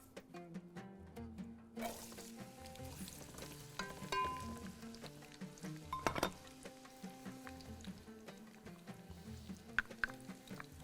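Onions frying in a pan for Bahraini margoug, a steady sizzle carrying on throughout at moderate level, with clinks and stirring of utensils over soft background music and no talking.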